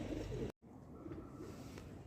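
Pigeons on a rooftop coo softly and faintly against a steady outdoor background. A brief dropout breaks the sound partway through.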